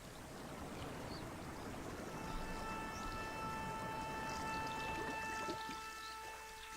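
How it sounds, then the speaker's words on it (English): Water is drawn in and absorbed in the video game Seasons After Fall, a steady rushing, streaming wash with soft tonal hums layered over it, ending in a gurgling drain toward the close. "So we're going to use Summer to absorb that water that we need."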